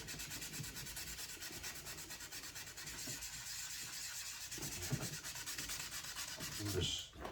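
A goalie mask is wet sanded with 400 grit sandpaper in steady, continuous rubbing strokes, close and even, with a brief louder scrape near the end and no talking.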